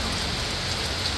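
Heavy rain falling steadily in the Philippines, a dense, loud, continuous hiss and patter with no pauses and no talking.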